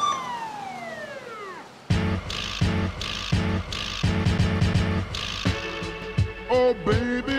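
A police car siren wails in a falling sweep, loud and alone, for about two seconds before a heavy drum-driven music beat takes over.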